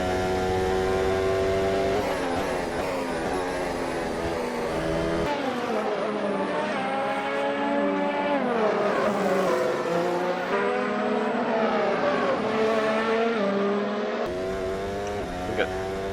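A Williams Formula 1 car in a racing video game screams through its gears, the engine pitch climbing and dropping in repeated shifts across the run, loud and close, while someone talks over it.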